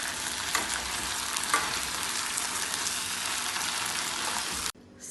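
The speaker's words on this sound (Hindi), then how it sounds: "और इसे स्टर कर लेते हैं।" Kebab pieces and vegetables frying in a pan while being stirred, a steady close hiss of sizzling with soft scraping strokes, cutting off abruptly near the end.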